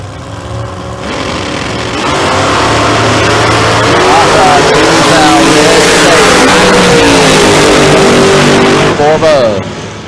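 Old Vega wagon drag race car at a Kentucky outlaw racing event, engine building from a low idle into a loud sustained roar with revs climbing and dropping, while a voice talks over it.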